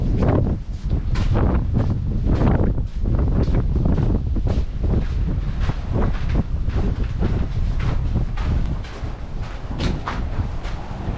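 Strong, gusting wind buffets the microphone on a bridge over the Colorado River at the Grand Canyon, a loud continuous roar with rough, pulsing bursts and no talking.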